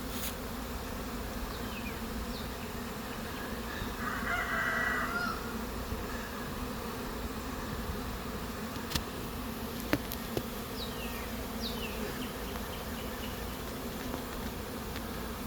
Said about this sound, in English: That's lots and lots of bees trying to get in that little dinky hole.